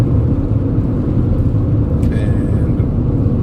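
Steady low road rumble inside a moving car in Australia, loud and constant throughout, with a brief faint tonal chirp near the middle.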